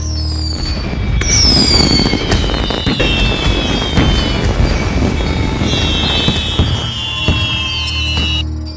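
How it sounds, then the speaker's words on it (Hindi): Firecrackers and fireworks set off in an animated cartoon scene: a loud, dense stream of crackling bursts and booms with whistling rockets streaking overhead, continuing for about eight seconds. "गुल्ली बुल्ली और शॉन मिलकर पटाखे जला रहे होते हैं"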